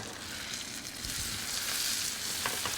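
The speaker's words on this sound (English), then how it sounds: "Take another piece of barracuda and just drop it right in the pan." Battered barracuda pieces fry in a hot pan, giving a steady, close sizzle of bubbling oil with soft crackles throughout and no talking.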